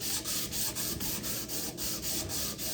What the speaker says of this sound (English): But right now, I've been sanding for about 20 minutes now.